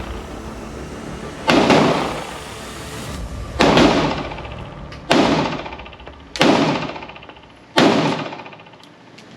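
Five loud, sharp gunshots from a PSA 5.7 Rock pistol at an outdoor range, fired at slow, roughly even intervals, each with a ringing decay.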